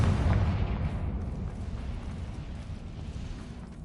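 A Confringo blasting spell explodes in the Hogwarts Legacy video game, making a loud, deep rumbling boom that fades slowly over a few seconds with no talking.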